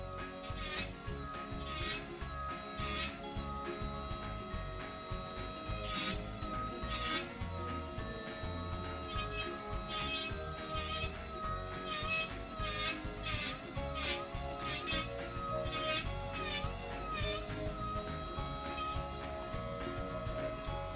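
Flat cut file rasping against a 14K gold earring in steady, close back-and-forth strokes, each pass a bright scratchy rub repeating at a quick even rhythm over a constant low background.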